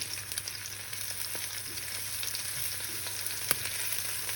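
Bite-sized tuna patties frying in hot oil in a pan, a steady faint sizzle throughout with a few soft clicks as pieces are flipped.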